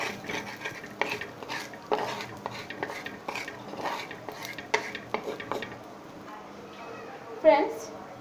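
A spatula scrapes and taps against a pan as a fried egg is lifted out, with irregular metallic clinks over a faint sizzle and a louder knock near the end.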